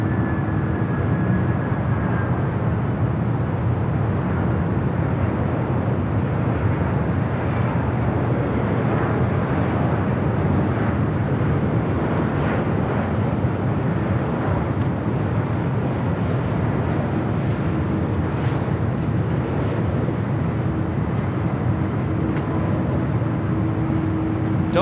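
A Delta Boeing 767 arrives at LAX, its jet engines making a steady, loud, rumbling roar that holds for the whole stretch with a faint whine early on, and no voices.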